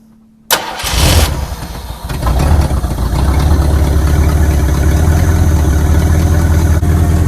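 A Ford Galaxie wagon engine cranks and fires up abruptly, then settles into a loud, steady rumbling idle up close.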